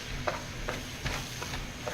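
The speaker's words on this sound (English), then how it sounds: "And it starts a sizzling again. And you just start mixing it up." Venison and onions sizzle steadily in a pan for deer chili, with soft scraping spoon strokes stirring the mix every half second or so.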